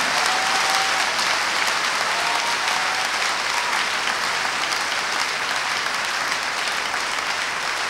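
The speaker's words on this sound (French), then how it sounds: "Acclame très fort Jésus-Christ." A church congregation in Atakpamé, Togo claps continuously for the whole span. The applause is dense and steady, a broad wash of many hands with no pauses.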